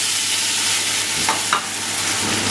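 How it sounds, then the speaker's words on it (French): Vermicelli stirred in a pan as the cooking water boils off, a loud steady sizzle with a couple of soft scraping strokes partway through, no voices. "On remue jusqu'à totale évaporation donc de l'eau pour cuire nos petits vermicelles."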